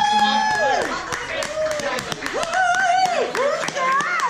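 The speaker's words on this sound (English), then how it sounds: "Give a round of applause" An audience at a brewery event claps in a loose burst of sharp claps that carry on under cheerful talk and voices rising in pitch.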